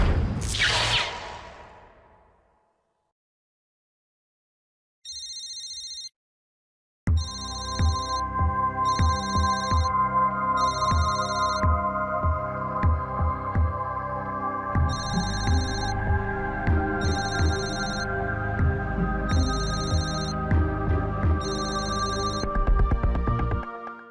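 A phone rings in a TV drama scene, repeating short electronic chime bursts at a steady rhythm over a bed of music after a brief quiet stretch.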